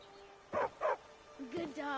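A dog in the VR game Skyrim VR gives two quick, close barks, followed by a voice speaking.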